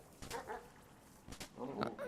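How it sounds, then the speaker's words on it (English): Short yapping barks from a dog in the video game Animal Well, a few clipped bursts spread over two seconds, moderately loud against a faint game background. "Crap, now I gotta deal with the stupid dog."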